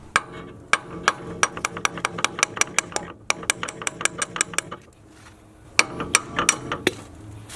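Rapid metallic hammering and ratcheting clicks on a Jaguar S-Type front wheel hub as wheel studs are knocked out, in quick bursts of sharp strikes with brief pauses between, close and loud.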